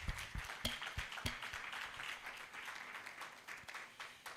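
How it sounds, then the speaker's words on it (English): Faint, distant applause from a symposium audience, scattered claps with a few sharper individual hits, sustained at low level for several seconds. "please let's give another round of applause"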